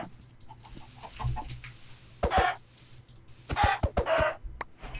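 Minecraft chickens cluck in several short bursts, with a few soft clucks early and louder, closer clucks in the second half, and no one talking.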